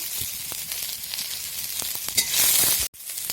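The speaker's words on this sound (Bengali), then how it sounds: "সয়াবিনটা ভাজা হচ্ছে" Soybean chunks fry in hot oil in a pan, giving a continuous close crackling sizzle with small pops that swells near the end before cutting off abruptly.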